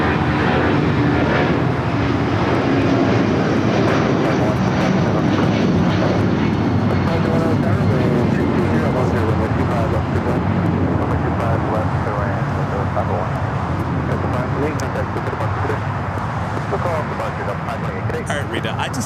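An Alaska Airlines plane takes off from runway 25 right at LAX, its steady jet roar continuous throughout while people talk over it.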